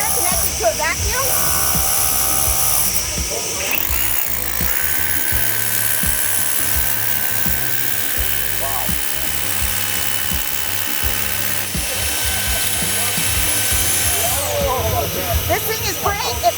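An SDS hammer drill with a vacuum attachment, used for overhead drilling, grinds steadily and loudly the whole time, with a vacuum-like whine overhead and brief bursts of harsher drilling.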